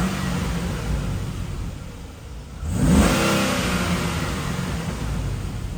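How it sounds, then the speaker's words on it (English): A Chevrolet Caprice police-package V8 with new headers and converter idles, then revs up once, a loud rising engine roar that holds near the microphone, no talk. "I'll give it a couple revs."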